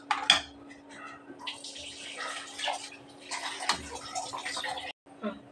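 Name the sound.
water being poured into a white kurma in a pan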